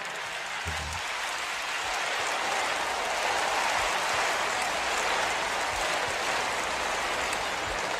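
Sustained applause from a large church congregation for teachers, a dense, even wash of clapping that holds at a steady volume throughout.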